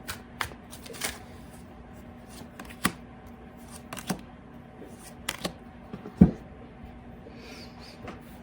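Tarot cards being shuffled close by, with scattered soft riffles, taps and flicks at irregular intervals in a quiet room, and no talking.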